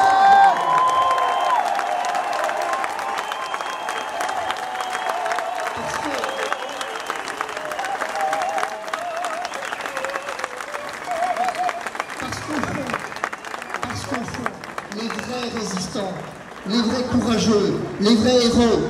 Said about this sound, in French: Que vous vous applaudissiez, à tout rompre.